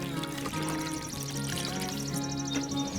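Water pours steadily onto potted pepper seedlings sitting in bottom trays in a spring garden, a continuous close trickle and splash lasting the whole moment with no talk.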